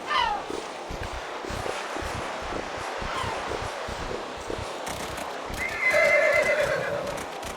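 A horse in the Horse Tales: Emerald Valley Stables video game gives a clear whinny over the steady clip-clop of hooves, with a rustling outdoor ambience behind it.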